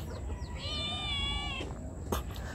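Hens and newly hatched chicks on a farm coop, with a high, drawn-out tonal call and soft clucking over a constant rough background hum, fairly close.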